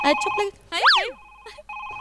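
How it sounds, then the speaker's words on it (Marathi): An electronic phone ringtone plays in short melodic bursts with a sweeping tone, stopping and starting a few times, loud and close. "कोणाचा फोन आहे ग?"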